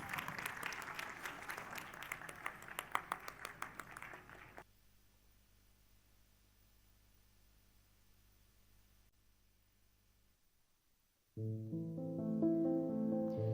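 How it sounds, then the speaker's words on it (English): A burst of applause at an Annual Day stage event fills the opening seconds, then fades to a low hum and near silence before a loud musical chord enters. "With a thundering round of applause"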